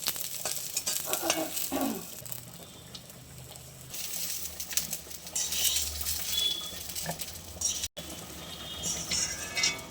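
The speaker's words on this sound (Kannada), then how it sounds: "ಸೊ ಅದಕ್ಕೆ ಇದು ಚೆನ್ನಾಗಿ ಫ್ರೈ ಮಾಡ್ಕೊಳ್ಳೋಣ" Onions and green chillies fry in a pan with a constant sizzle, broken by scraping and clinking as a utensil stirs them; no one speaks.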